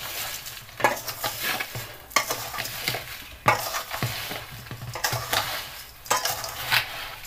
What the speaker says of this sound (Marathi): मिक्स करून घ्यायचं आहे.